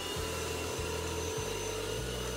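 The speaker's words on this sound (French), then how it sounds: "On va donc essayer l'aspirateur. Donc voici le bouton on." An Exceline CycloniX-5 stick vacuum cleaner running, a steady close motor whine with low humming tones that step and shift a few times as it starts up, with no talking.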